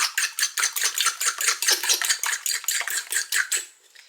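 Eggs being whisked with a fork or whisk in a bowl for meatloaf; rapid, even clinking strokes against the bowl, close and crisp, slowing to a stop at the end.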